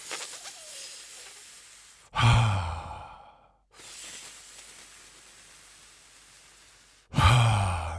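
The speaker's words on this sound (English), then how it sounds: "It's a so-called straw breathing." Slow, audible breaths up close: a long airy inhale followed by a long, whooshing, sigh-like exhale, the cycle starting again at the end.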